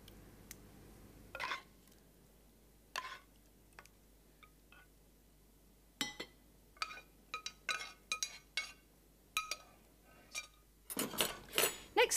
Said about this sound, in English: Just spoon the sauce over.